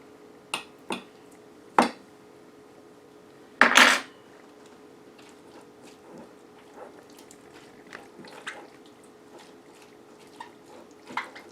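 Tuna salad being mixed in a bowl: a few sharp clinks of a utensil against the bowl, then softer scattered taps and stirring sounds, close and fairly quiet with no voices.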